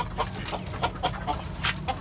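Desi chickens kept on a rooftop cluck in quick repeated bursts, close and fairly loud, several short calls overlapping over a low background rumble.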